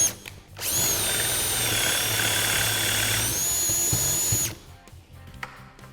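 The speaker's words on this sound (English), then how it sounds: "So it's really easy to drill that large hole" A power drill bores a large hinge hole in a door, guided by a drill jig locked in place; the loud, steady whine runs for about three and a half seconds, then winds down and stops.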